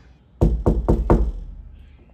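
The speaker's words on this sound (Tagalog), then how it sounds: "Sino yung kumakatok?" Four sharp knocks on a door in quick, even succession, loud and close, with a short resonant tail and no talking.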